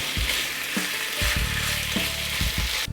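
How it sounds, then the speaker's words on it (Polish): Food sizzles steadily in a hot frying pan while placek po zbójnicku is cooked, a close, continuous crackling hiss with a few short scraping and clinking knocks from stirring, and no voices. "Ono musi być tak dobrze podsmażone. Skwierczy wesoło."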